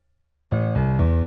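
Lead synth with EQ shaping, one sustained bright tone entering after a brief silence and holding with a slight pitch change, loud and alone.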